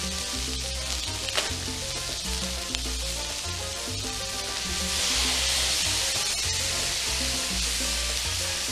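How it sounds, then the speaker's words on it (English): Steak sizzles in hot oil in a pan, a bright steady hiss that swells louder midway, with a tonal musical backdrop running underneath. "Now we're going to add the steak."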